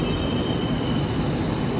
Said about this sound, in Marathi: आली का मेट्रो.